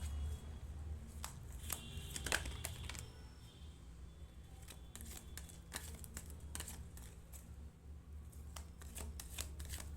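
Tarot cards being shuffled by hand, repeated soft riffling flicks and slaps in irregular bursts, close but quiet over a low steady background hum.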